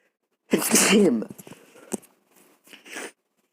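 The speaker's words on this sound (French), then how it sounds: "je sais pas pourquoi j'ai éternué" A man sneezes once indoors, a loud, close burst followed by a few fainter breathy sounds and small movements.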